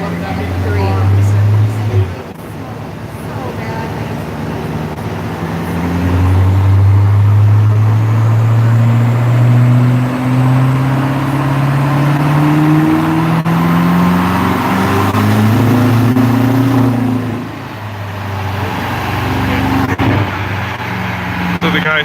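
A tuned Dodge Challenger Hellcat or Demon engine revs on a dyno, the note climbing and dropping in long loud sweeps with a brief dip near the start, while people talk over it.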